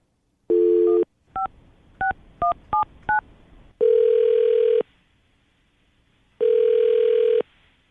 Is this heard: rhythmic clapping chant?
no